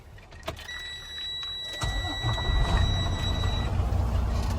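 A truck engine cranks and starts at about 1.8 seconds during a 2024 Ohio pre-trip inspection, settling into a steady, loud, close idle rumble after a thin electronic whine and a few clicks.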